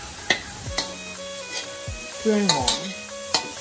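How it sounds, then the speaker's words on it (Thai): Garlic stir-fried with pork in a pan for Hokkien-style soy sauce noodles, giving a steady sizzle broken by several sharp spatula scrapes and clacks, with a brief spoken line. "เรากระเทียมลงไปผัดนะครับ"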